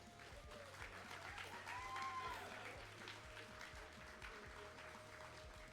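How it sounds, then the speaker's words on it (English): A crowd at a university esports varsity event, Northumbria versus Newcastle, claps in steady, moderately distant applause that lasts throughout, with faint chatter underneath. "please have a round of applause for everyone"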